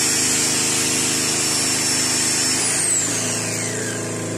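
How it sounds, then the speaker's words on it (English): An angle grinder runs on power from an old Kawasaki GD700 generator, a loud, steady high-pitched whine that starts to wind down near the end, with no talk. "So the grinder's working"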